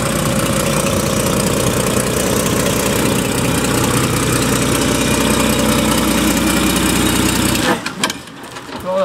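A 1929 Graham-Paige Model 615 barn-find engine idles with a steady, busy mechanical chatter, loud and close, then cuts off abruptly near the end, leaving brief clunks.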